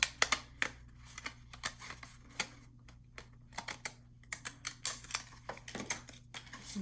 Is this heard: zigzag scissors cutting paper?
yes